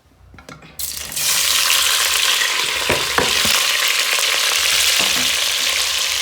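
Loud, steady sizzling of onions and bacon frying in a hot pan, with a few stirring scrapes and clinks, starting suddenly after a quiet moment.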